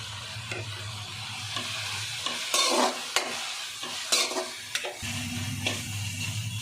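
Gongura leaves being sautéed in a pan, gentle sizzle with brisk spatula scrapes and a few sharp knocks against the pan, close, while a low steady hum runs underneath.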